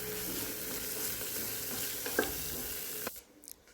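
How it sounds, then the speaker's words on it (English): Onions with ginger garlic paste sautéing in a pan, a soft continuous sizzle with a few utensil clinks and scrapes, fading to near quiet at the end. "By this time I will be adding ginger garlic paste. This adds to the taste. I'll saute this for some time."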